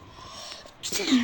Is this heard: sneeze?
yes